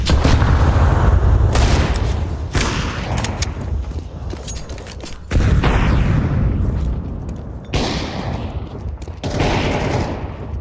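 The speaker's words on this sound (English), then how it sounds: "Flashbang." Flashbang grenades and other blasts in Counter-Strike 2 during a BLAST Premier Rivals Hong Kong match, with loud bursts breaking out at intervals over continuous gunfire and battle noise.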